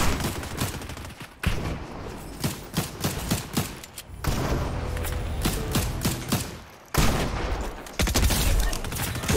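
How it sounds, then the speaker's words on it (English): Gunfire in the Fortnite video game: dense bursts of rapid shots and thuds in long clustered volleys, loud and close, with brief gaps between bursts. "this person was shooting at someone in that building"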